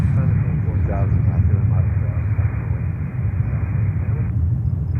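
A Cathay Pacific Airbus A350-900 airliner at JFK airport gives off a deep, steady rumble, with someone talking over it the whole time.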